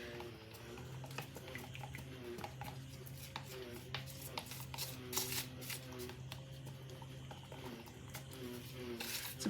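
Resin being stirred for a DIY bowl, heard as quick ticking, scraping taps from the mixing stick that run in uneven bursts over a steady low engine-like hum from outdoors.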